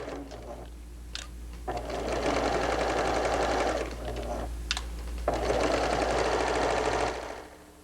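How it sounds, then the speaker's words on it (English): A sewing machine with its walking foot engaged stitches piping onto knit fabric for a sweater, running in two steady, loud whirring bursts of about two seconds each with a short pause between, and no talk. "I have my walking foot engaged so that I have no stretch in this at all, and it's sewing very nicely."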